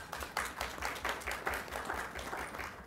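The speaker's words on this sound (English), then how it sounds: "Let's give them a round of applause." Applause at a school board meeting for middle school honorees, a room of people clapping in quick, slightly uneven bursts at moderate distance, fading a little by the end.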